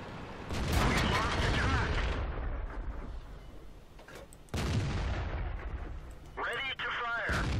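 Tank guns boom in a World of Tanks battle, with a heavy blast near the start and another sharp report midway, each rolling into a long rumbling decay, while a voice speaks over the action.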